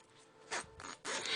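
A zipper slider is pushed along the zipper of a crochet bag lining, giving a few short, close, quiet rasping zips in quick succession.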